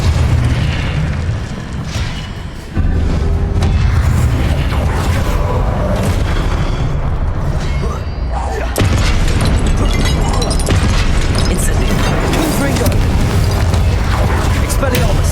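Confringo blasting spells go off in Hogwarts Legacy as loud, booming explosions over dense game sound, with sudden bursts that swell and carry on continuously with no pause.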